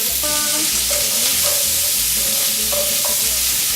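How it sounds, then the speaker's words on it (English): Chopped medium onion sizzles and fries in a pot of oil as it is stirred, a steady loud hiss with intermittent scraping strokes and bright clinks from the stirring utensil, no voices. "We're going to add that into the pot and stir that around for a minute."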